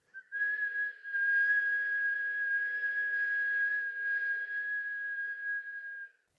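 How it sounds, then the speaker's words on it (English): Kundalini yoga breathing: a slow, deep inhale drawn through pursed lips makes a steady, clear whistle. The single sustained tone lasts about six seconds, with a faint breathy hiss beneath it and no talking. "Inhaling through whistle mouth"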